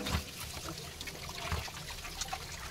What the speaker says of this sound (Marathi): बटाटे हे अगदी पाण्याने स्वच्छ धुवून घ्या।